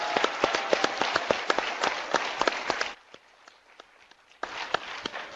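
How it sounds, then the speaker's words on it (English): A school audience claps for friends at the Kennedy Library during a distance-learning reading program. The dense, fairly loud applause breaks off for a moment midway, then starts up again. "let's give a round of applause to our friends at the Kennedy Library"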